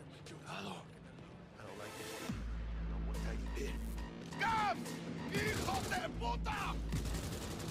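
Gunshots aimed at a car tire in Cyberpunk 2077 crack in rapid bursts over a low engine hum, with sharp impacts and mechanical clatter, mixed with game sounds and voices at a moderate level.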